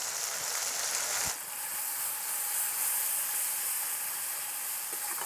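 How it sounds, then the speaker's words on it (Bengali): Spice paste of ground dried chilli, turmeric, cumin, black pepper and coriander fries in a pan with a soft, continuous sizzle and hiss, close and fairly quiet, with a brief clink of stirring. "মশলাটাকে আমি এইভাবে কষে নেব।"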